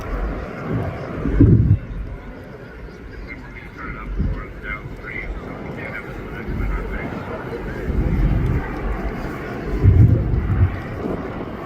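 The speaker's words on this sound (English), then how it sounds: "The tilting propellers are coming up, allowing the aircraft to transition from high speed to low speed flight." A Joby S4 eVTOL aircraft with tilting propellers flies at an airshow, a steady distant rotor and wind drone rising in broad swells, with gusts of wind noise and a voice commentating over it.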